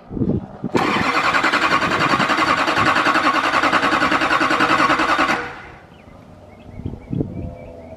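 A Duramax diesel engine cranks and briefly catches during a rebuild and reinstall, a loud, close starter-driven churn running about four and a half seconds before cutting off. Faint clanks and shop noises follow.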